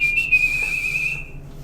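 A man whistles one steady, sustained clear tone for over a second, close and loud, fading out near the end with no talking.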